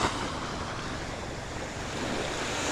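Continuous wash of ocean waves breaking on the shore at high tide, a broad, even surf roar heard close up with no voices.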